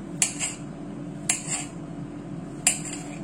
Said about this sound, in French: on coupe les champignons